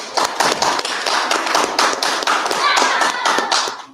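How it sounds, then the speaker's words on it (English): A congregation at a Feast of Trumpets service in San Antonio claps together, a close, dense burst of hand claps with sharp percussive taps that runs steadily for about four seconds. "Before we get started, everybody clap it up."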